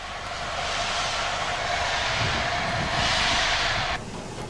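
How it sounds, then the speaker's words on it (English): A Black 5 steam locomotive hauling a Bournemouth train approaches a station in December 1965, a steady, loud rushing rumble that swells slightly toward the end before cutting off abruptly. "A Black 5 approaches the station on a Bournemouth train."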